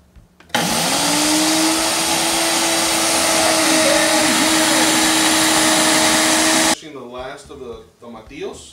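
A blender grinds pumpkin and sesame seeds into powder, a loud steady high-pitched whir that runs for about six seconds alone before cutting off, followed by a person talking.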